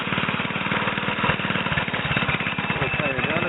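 A gas bike's small engine runs close and loud with a fast, rough pulsing putter, holding a fairly steady pace throughout, with a voice speaking over it.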